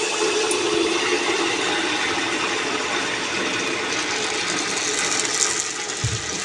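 Oil hits a hot pan for frying gur pitha, a steady, dense sizzle and crackle that holds at an even level throughout, with a faint clatter near the end.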